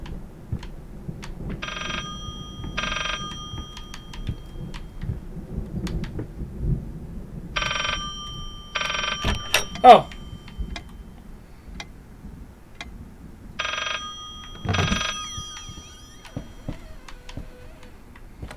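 An old telephone rings inside a haunted house in the horror game Layers of Fear, sounding three separate double-burst bell rings spaced several seconds apart over low ambient rumble and ticking, with a brief spoken exclamation.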